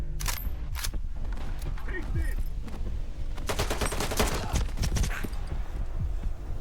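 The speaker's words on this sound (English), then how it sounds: "It's just wildly addictive and satisfying gunplay, and you see the visceral headshots through the beautiful zoomed in scope" Gunfire in the S.T.A.L.K.E.R. 2 video game: sharp single shots and rapid bursts crack close by, with a voice talking over the shooting.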